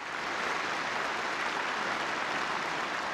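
Deputies in an assembly hall applaud enthusiastically in unison, a dense, steady wall of clapping that holds for about three seconds with no voices standing out.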